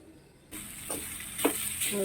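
Banana flower thoran with its ground coconut paste roasting and sizzling in a pan, a soft steady hiss that starts abruptly and carries a few faint stirring scrapes.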